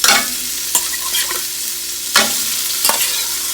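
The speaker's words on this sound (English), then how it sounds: "Now we'll lay in our shrimp. And these are going to just get a sear," Shrimp laid into a hot pan for a quick sear, giving a loud, steady sizzle with a few sharp clatters and scrapes of the food being placed and moved.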